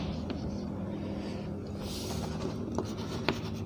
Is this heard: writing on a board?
yes